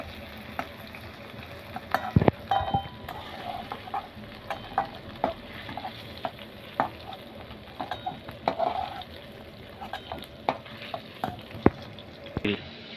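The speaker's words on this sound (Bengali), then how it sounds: "নুন হলুদটা দিয়ে আমি আলুটাকে লাল লাল করে ভেজে নেব।" Potato pieces frying in oil with salt and turmeric, a steady close sizzle broken by repeated scraping and stirring clatters from a spatula in the pan, with no talking.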